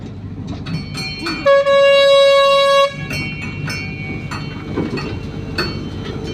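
A passenger train rumbles steadily as heard from inside a carriage, with a loud sustained horn blast cutting through for about a second and a half before the rolling clatter resumes.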